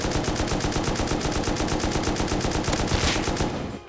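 Rapid, continuous automatic fire from an M2 weapon in the Rust video game, a loud, evenly spaced stream of shots that stops abruptly near the end.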